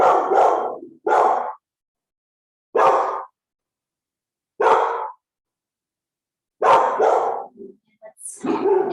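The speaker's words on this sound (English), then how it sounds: "even something like a loud dog barking." A loud dog barks in separate bursts: single barks and quick doubles, spaced out by silent gaps of about a second or two, close and forceful.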